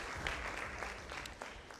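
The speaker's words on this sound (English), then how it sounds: "Round of applause, please, for Light Academy." An audience at a school debate knockout in the Nairobi region applauds Light Academy, a steady wash of dense clapping that holds evenly for the whole stretch with no voices over it.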